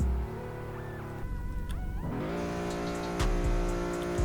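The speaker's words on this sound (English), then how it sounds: "See how it did that little burnout there?" A sedan in the Roblox game Greenville does a short burnout, with a rising engine whine and tire squeal, a brief dip, then revving climbing again in stepped tones, loud and alone.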